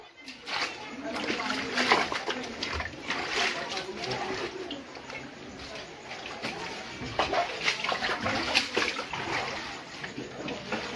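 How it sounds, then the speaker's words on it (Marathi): Floodwater splashing and sloshing as a resident bails it out of a flooded house in Himayatnagar, with irregular watery splashes throughout, fairly close, with voices talking at times over the wet sounds. "हा नागरिक घरातून पाणी बाहेर काढत आहे बघा."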